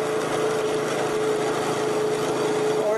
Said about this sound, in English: excuse the shakiness and the sound of the motorcycle